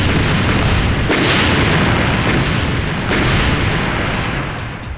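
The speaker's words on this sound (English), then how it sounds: "I like these explosions." Explosions from rocket fire in the video game Doom, a dense continuous roar of booming blasts that stays loud and near for the whole stretch, with a few sharper bursts layered in.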